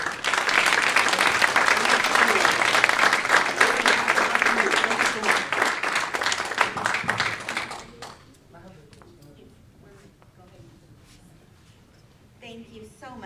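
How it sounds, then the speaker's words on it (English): Audience at a student coding event for app developers breaks into dense, loud applause for about eight seconds, then it fades to scattered claps and quiet room noise. "So round of applause for the instructors."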